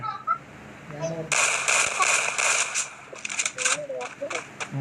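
Rapid gunfire from the Free Fire video game, a burst of sharp repeated shots followed by sparser pops, with excited voices talking over it.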